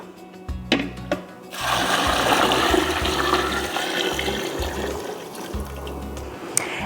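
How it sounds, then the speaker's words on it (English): Turkey broth poured into a large pot for leftover-turkey gumbo, giving a steady gushing, splashing water sound that starts after a brief pause and runs loud and close for several seconds, with a small clink near the end. "now we are gonna add our turkey broth"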